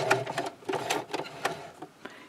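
A sewing machine back-stitches a scrub cap, giving quiet, close bursts of rapid mechanical stitching that start and stop several times as it runs forward and then in reverse.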